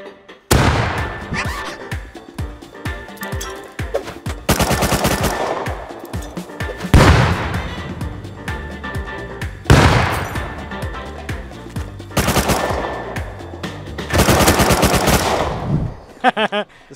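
Automatic weapon fire in the survival game Rust comes in several loud, sustained bursts of rapid shots, broken by short pauses and scattered single shots.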